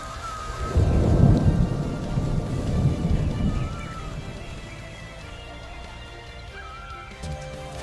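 Thunderstorm with a deep rolling thunder rumble swelling and fading over several seconds, steady rain hissing underneath throughout, with faint animal mews briefly audible in the distance.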